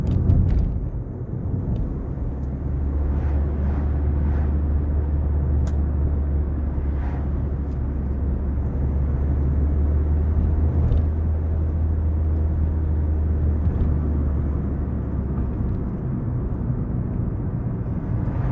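A car drives along with a steady low engine rumble throughout, slowing and shifting gears as it approaches a bend, with no voices heard.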